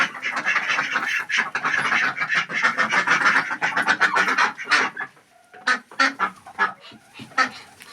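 Farmyard poultry call out with a rooster among them, a run of overlapping squawks and honking cries close by, breaking into shorter separate calls after a brief pause.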